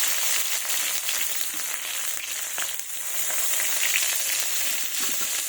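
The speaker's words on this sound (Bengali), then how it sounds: "এবার ফোড়নে শুকনো লঙ্কা, কাঁচা লঙ্কা, তেজপাতা, গোটা জিরে আর 5 ফোড়ন দিয়ে দেবো" Dry red chillies, green chillies, bay leaf, whole cumin and five-spice crackle in hot oil for a fish-head moong dal dish. A dense, steady sizzle runs close by with faint stirring and no talk.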